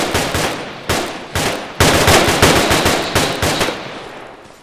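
Loud automatic gunfire in the video game Arma 3, a burst of single shots followed by rapid sustained fire with several short pauses, close and dominant with no talking over it.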